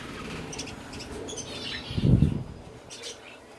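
Pet birds kept inside a house give a few faint scattered chirps and tweets, with one brief low thump partway through and quiet room noise throughout.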